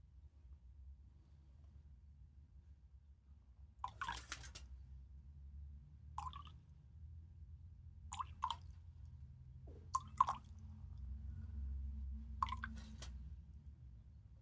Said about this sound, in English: Throw the excess water on the floor.